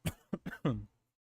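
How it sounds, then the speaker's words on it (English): Several quick coughs in a row, close and fairly loud, with a throaty, rasping quality, then silence. "Sorry for coughing so much."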